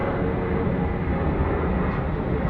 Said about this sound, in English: Jetstar 660 off to Uluru.